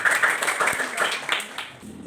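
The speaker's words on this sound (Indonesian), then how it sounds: "tepuk tangan untuk kelompok 1" A class of students applauds group 1 in a classroom, a brief burst of close, dense clapping with scattered louder claps over two seconds.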